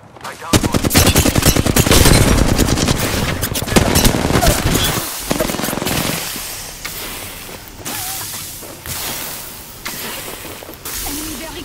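Automatic gunfire rattles in a shooter video game, loud and dense bursts early on, then thinning to scattered distant shots, with players talking over the action.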